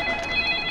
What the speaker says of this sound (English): And then the damn phone rings.